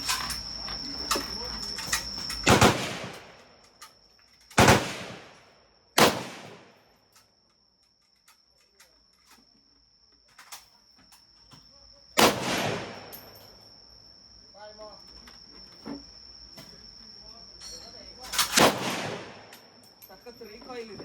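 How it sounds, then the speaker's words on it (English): An AK-47 rifle fires five sharp single shots at a Cu Chi Tunnels shooting range in Vietnam. The cracks are loud and unevenly spaced, several seconds apart, each with a short ringing tail. "AK-47 shoot ಮಾಡೋಣ."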